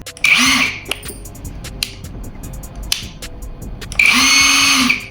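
INGCO 3/4-inch cordless 1350 Nm impact wrench running in two loud, close bursts of high-pitched whirring and hammering, one at the start and one at the end, with a quieter stretch of clicks and handling in between.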